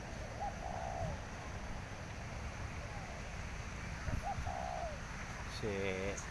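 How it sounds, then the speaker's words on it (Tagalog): Pigeons coo in a park, a couple of soft rolling phrases spaced apart over steady background noise, with faint voices nearby. "Naamo ang mga ibon dito."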